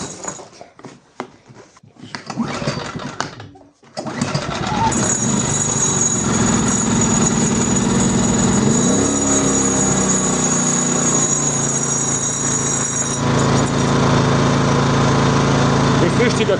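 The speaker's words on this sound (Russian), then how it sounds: "а это генератор" A portable generator engine runs steadily after a cold start, a loud constant drone filling the space after a few seconds of sputtering and mechanical clatter, with a voice briefly heard early on.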